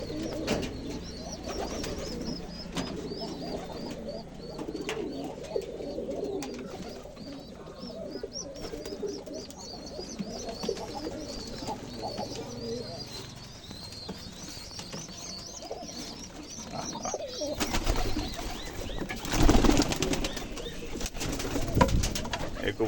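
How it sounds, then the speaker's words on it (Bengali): Pigeons coo softly and repeatedly at close range while feeding their chick, with faint flutters and rustling and a louder burst of movement near the end. "সবাই দেখছেন কবুতরগুলো বাচ্চাকে খাওয়ানোর চেষ্টা করছে।"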